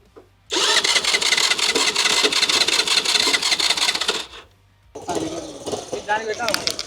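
An engine of a homemade Tesla Cybertruck replica cranks and fires up loudly nearby, running roughly for several seconds before cutting out, then turning over again with some clattering.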